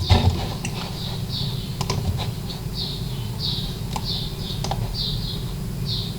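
Typing on a computer keyboard, a close run of light, quick key clicks in short bursts over a steady fan hum, with a few sharper taps standing out.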